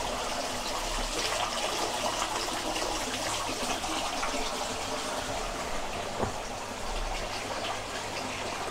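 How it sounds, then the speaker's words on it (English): Hands washed under running water from a tap, a steady close gush that carries on without a break, with no talk. "it's important to wash the hands."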